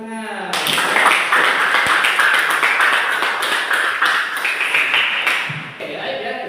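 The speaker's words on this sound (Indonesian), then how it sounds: "Tepuk tangan." Classroom applause from a group of students, a dense burst of clapping that starts abruptly, stays loud for several seconds and tapers off near the end.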